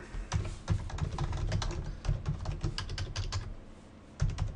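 Rapid clicking of keys on a computer keyboard, a steady stream of close, crisp taps with brief pauses between bursts.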